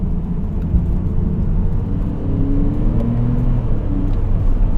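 A Porsche 997.2 on winter tires cruises icy back roads, its engine and tire rumble a steady, loud low drone inside the cabin with a faint rising engine tone, no talking.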